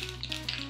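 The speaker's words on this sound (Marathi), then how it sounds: "मोहरी छान तडतडायला सुरुवात झाली की गॅस करूयात बंद" Mustard seeds, cumin and spices crackle in hot oil for a tempering, giving a brief, close, steady sizzle with faint pops.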